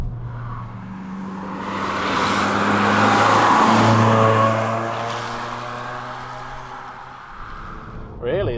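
A Toyota Yaris GRMN engine climbs through the revs toward its red line just below 7,000 RPM, a rising, swelling drone with steady harmonic tones that peaks midway and then eases, heard from inside the car beneath someone talking.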